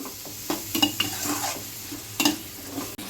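Masala frying in a pan for egg biryani, a soft steady sizzle broken by several sharp scraping and clinking strokes of a stirring spoon, fairly quiet and close, with no talk.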